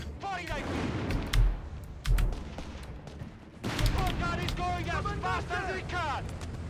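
Repeated 6-pounder anti-tank gun fire in a Company of Heroes 3 battle, several sharp booming shots at irregular intervals amid dense battlefield noise, with someone talking over much of it.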